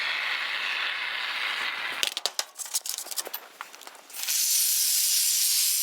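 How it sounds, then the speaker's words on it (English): Spray foam sprays into a gap in a garage door panel with a loud, steady hiss. The hiss breaks into a couple of seconds of sputtering clicks and ratchety bursts, then resumes its continuous hiss. "We're gonna fill that in with our spray foam."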